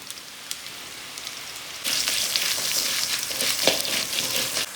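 Coriander seeds, dried red chillies and curry leaves frying in oil for a yam curry masala, a quiet hiss that swells into a steady, dense sizzle with scattered pops partway through.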